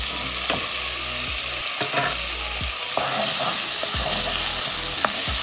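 Potatoes and mixed vegetables frying in a pan for spicy chicken Maggi noodles, a steady loud sizzle with occasional stirring scrapes and clinks throughout, no talking.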